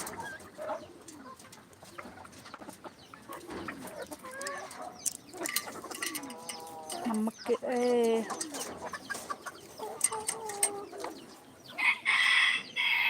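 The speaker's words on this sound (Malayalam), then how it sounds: "നമ്മുടെ കരിങ്കോഴി ഇതിൽ രണ്ട് പൂവൻകോഴിയും രണ്ട് പിടക്കോഴിയും ഉണ്ട്" Karinkozhi black chickens, two roosters and two hens, cluck and crow nearby in a busy, uneven stream of calls, with a person talking intermittently among them.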